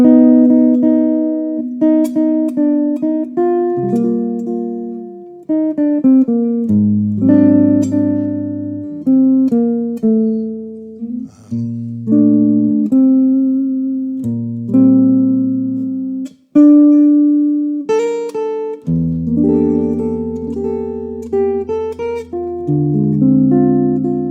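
Guitar plays a slow chord melody, ringing chords and single notes let to sustain, with short pauses between phrases and no voices.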